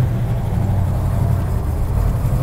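A 1970 Plymouth GTX with V-code six-barrel carbureted engine and four-speed runs steadily, a continuous deep rumble close by with no pauses or talk.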